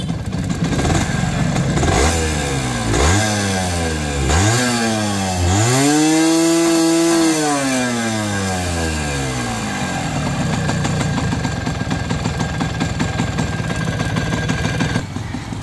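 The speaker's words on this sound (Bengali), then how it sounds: "এখানে কিন্তু দেখেন ব্যালেন্সার ওয়েটে যে ক্যারকার সাউন্ডটা এখন এখানে কিন্তু আছে," A used Honda CDI 100cc motorcycle engine with a rattling balancer weight revs up and down in several rising and falling bursts, peaking loudly mid-way, then drops back to a rough, uneven idle, close by.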